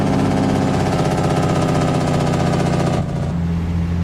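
A truck engine idles steadily in American Truck Simulator, a loud, continuous low rumble with a slight drop in tone near the end and no voices.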